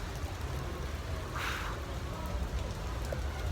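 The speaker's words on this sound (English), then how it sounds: "while I wait for the rain to stop" Steady rain falls on a New York City street, a constant even hiss with a brief brighter burst of spatter near the middle and low traffic-like rumble underneath.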